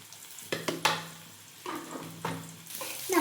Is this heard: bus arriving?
no